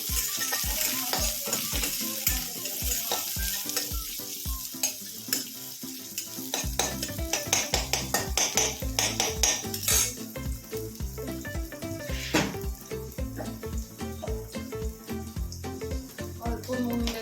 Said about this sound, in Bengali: তেল গরম হয়ে গেছে, মিডিয়াম ফ্লেমে আমাকে পেঁয়াজগুলো গোল্ডেন কালার করতে হবে।